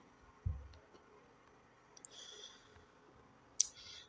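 Quiet, scattered mouse clicks as blur types are chosen in video editing software, a few isolated ticks over a faint room hiss.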